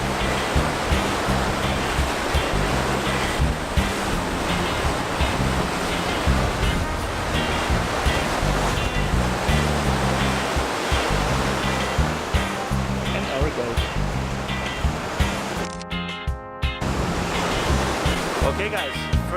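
Ocean waves and surf break steadily against the rocky Fuerteventura coastline, a loud continuous wash with rolling surges, and a voice talks briefly over it.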